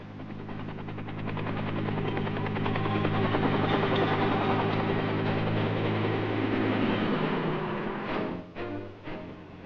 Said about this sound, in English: Dust-Off is the affectionate code name for the medical evacuation helicopters